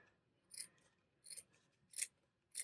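Scissors snip through a pink fabric dress piece for a Stranger Things waffle stand craft, four short crisp cuts spaced about half a second apart, close and fairly quiet, with no talking.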